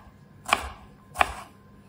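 Two crisp knife chops strike a cutting board about 0.7 seconds apart while ingredients are coarsely chopped in a home kitchen, each hit loud and close with a short ringing tail.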